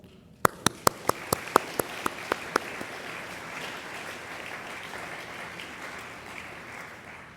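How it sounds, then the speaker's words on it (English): Audience applause at a cognitive science conference opening: a few sharp, separate claps first, then a steady, dense wash of clapping from a large crowd that holds evenly to the end, with no talking over it. "So if you will please join me in giving them a round of applause."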